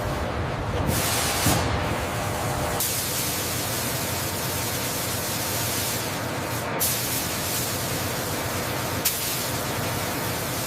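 Robotic spray painting of a Lockheed C-5 Galaxy military aircraft in a factory, giving a steady, loud hiss of spray that runs through the whole stretch with only slight rises and dips.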